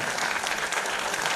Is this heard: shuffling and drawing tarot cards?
no